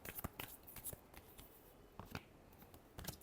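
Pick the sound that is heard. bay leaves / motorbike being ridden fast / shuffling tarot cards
shuffling tarot cards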